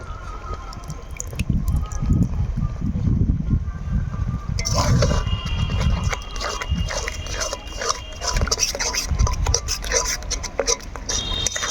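Spice masala is stirred and sautéed with a splash of water in a pan for aloo dum, with continuous scraping and wet sizzling up close, and clinks of metal utensils joining partway through.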